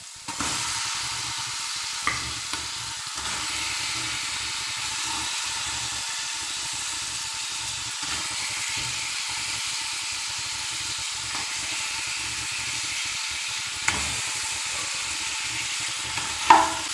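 Pork ribs, already washed, sizzle as they fry in a pot: a steady, close hiss with small pops and a few faint clinks, and no talking.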